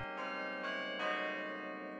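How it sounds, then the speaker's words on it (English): Chimes of the McGraw Clock Tower bells at Cornell University ring out across the campus in Ithaca, New York, with three successive resonant strikes whose tones linger and overlap, sounding clear and sustained with no voices. "the tolling chimes in the McGraw Clock Tower have provided a reassuring heartbeat to campus life at Cornell University"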